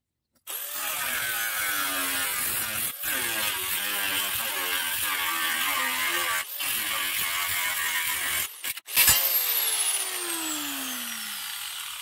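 Tin can sheet metal being cut for motorcycle lights, a steady rasping cut that runs for several seconds with a few brief breaks, ending in a sharp metallic scrape.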